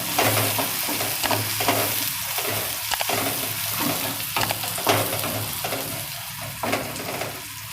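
Onion and tomato stir-fried in a pan for Kathiyawadi dhokli shaak, steady sizzling under repeated scraping strokes of a spoon against the pan, close and fairly loud.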